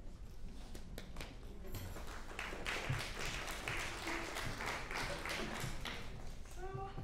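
Steady applause from the audience at a summer strings concert, a dense wash of many hands clapping at low level for several seconds, with faint talk mixed in.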